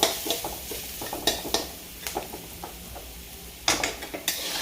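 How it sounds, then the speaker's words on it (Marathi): Peanut and chili paste is sautéed in a pan, with a utensil scraping and stirring in quick repeated strokes over a low, steady sizzle, close and fairly loud. "आपण जे काही वाटण केलं होतं ना शेंगदाण्याचं आणि मिरचं ते वाटणही असं छानपैकी परतून घ्यायचं आहे"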